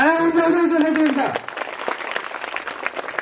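Brief clapping from a school audience breaks out after a sung chant, a short burst of many hands that follows a voice and fades under chatter.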